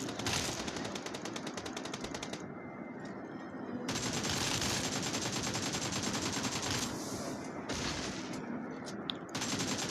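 Rapid automatic gunfire in a video game, loud bursts of repeated shots filling most of the span with brief pauses between volleys, no voices over it.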